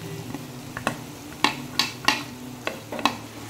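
Beans frying in a hot pan for a vegetable chicken biryani, stirred with a spatula that gives several sharp scrapes and taps over a low, continuous sizzle.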